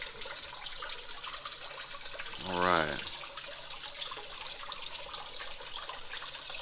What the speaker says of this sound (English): I think I need some more water, some more water flow, so I'll go ahead and increase that real quick.